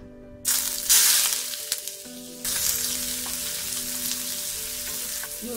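Onion sizzles loudly in hot oil for chicken curry, a crackling hiss that surges when it hits the pan and then settles into a steady fry, close by with no voices.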